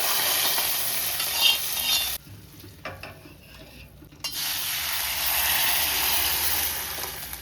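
A hot oil tempering sizzles and crackles steadily as it is stirred into betel leaf rasam, with a brief quieter pause in the middle before the frying hiss resumes.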